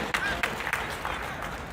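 Audience applause at a pre-fight boxing press conference in Detroit, a steady wash of clapping with a few sharper claps standing out, moderately loud throughout.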